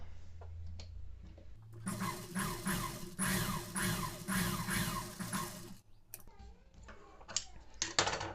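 Sewing machine stitching the edge of a blouse hook strip, a fast rhythmic whirring run of several seconds, followed by quieter handling and clicks.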